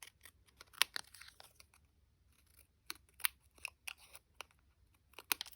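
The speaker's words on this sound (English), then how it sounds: "I need different scissors." Scissors snip paper for a faux ticket craft in bursts of sharp, crisp cuts, close and clear, with pauses between runs of snips and no talking.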